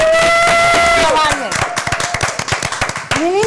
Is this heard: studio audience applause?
yes